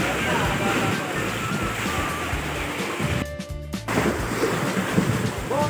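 Ocean waves surge and wash continuously at a fishing spot, mixed with wind buffeting the microphone and a brief burst of clatter, while a person talks over the noise.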